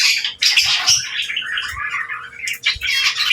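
A pair of pet dilute opaline birds chirp and call continuously at close range, with busy overlapping tweets and squawks.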